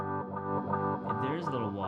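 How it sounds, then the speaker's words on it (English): Sustained guitar notes run through a G211 delay pedal, the repeats carrying a wobbling chorus modulation, layered and echoing at moderate loudness with no talking. "You hear that modulation that's been added now to the repeats?"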